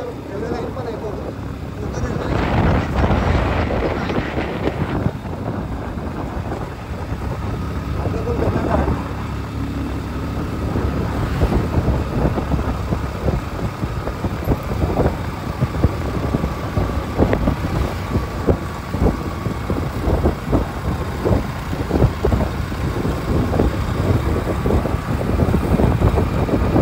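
Steady motorbike engine drone with rushing road and wind noise during a ride along the Vaghargaon road beside a railway line, loud and continuous throughout, with a voice talking over it.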